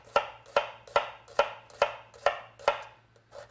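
A knife slices an onion into thin cuts on a cutting board, eight or nine crisp, evenly spaced chops in a steady rhythm, close up and alone with no talking.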